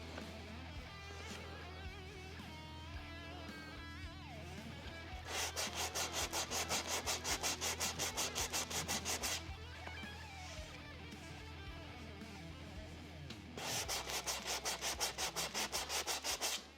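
Hand sanding on a wooden guitar body, a steady rhythmic scratchy rubbing in two long bursts of quick back-and-forth strokes, close and clear over a constant background hum, with no talking.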